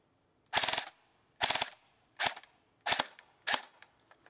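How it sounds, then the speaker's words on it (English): Upgraded Valken airsoft battle rifle fires on full auto in five short rapid bursts, each a tight crackling string of shots about half a second long, separated by brief pauses, close and sharp with no speech. "I'm going to put it on full auto so you can hear the rate of fire."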